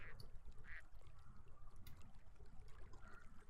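Ducks in The Sims 4 give a few soft, faint quacks over a quiet bed of trickling water and ambient game sound.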